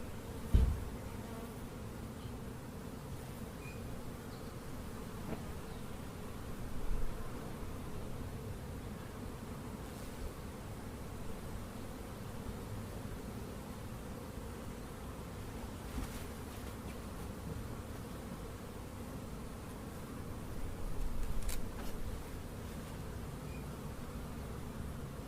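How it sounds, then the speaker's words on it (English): Honey bee workers buzzing as they climb out of a tray during queen marking: a continuous soft, droning hum close by, steady throughout with small swells and no talking. "all the worker bees will climb out"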